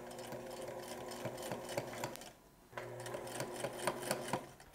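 Sewing machine stitching a jacket lining along an old seam, a fast close mechanical rattle that pauses briefly partway through and then resumes.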